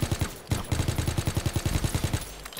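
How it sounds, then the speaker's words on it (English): Rapid bursts of automatic gunfire from the video game Call of Duty in Prop Hunt mode, a loud, steady rattling stream of shots with a brief pause near the start. "I'm just gonna shoot random things and hope for the best."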